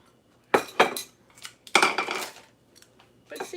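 Dishes and cutlery knock and clink while being washed by hand, a few sharp close clatters in short irregular bursts with quiet gaps between.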